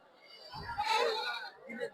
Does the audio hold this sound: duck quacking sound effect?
no